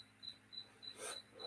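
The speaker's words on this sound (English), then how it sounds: "I can hear the crickets." Crickets chirp in short, evenly spaced bursts, faint and steady against a quiet background.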